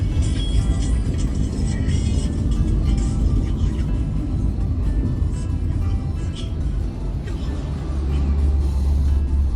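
Many cars crowd a one-way toll road exit at Parung Kuda, a dense, continuous rumble of engines and tyres with low motor drone swelling near the end, heard up close.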